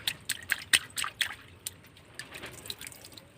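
A hand splashes water in a basin tub as a child does at bath time, giving irregular close splashes and drips that thin out toward the end.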